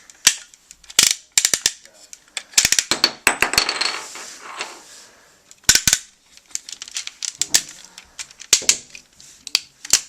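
The R.I.C. robotic toy dog transforms with a run of plastic clicks, clacks and snaps, irregular and close, with busy stretches of rapid mechanical rattling between sharp single knocks.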